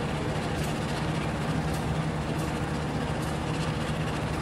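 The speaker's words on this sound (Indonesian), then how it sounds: "mulai terlihat kereta api Brantas mulai turun bukit itu" Brantas passenger train rolling down a sloping stretch of rail, a steady low rumble and engine drone heard from a distance, faint and even throughout.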